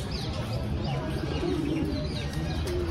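Pigeons cooing near a temple in Gokul, Mathura, producing soft, low repeated coos close by amid a busy murmur of other birds and background noise.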